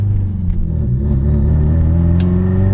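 A car engine drones loud and close at low revs with a smooth steady rumble as it downshifts into second gear, no clear rev blip, plus a faint brief click partway through.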